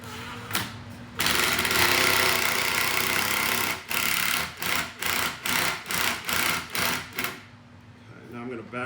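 A drill countersinks a screw hole in wine barrel wood, sounding as one sustained whir followed by a run of short, evenly spaced bursts as the bit is pulsed.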